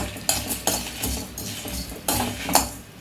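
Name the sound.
dry roasting coriander, cumin, red chillies and pepper in a pan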